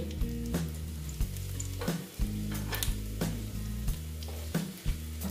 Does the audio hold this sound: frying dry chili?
yes